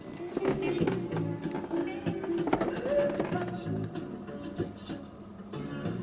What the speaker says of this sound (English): Wow, I've not heard a record player play for so long.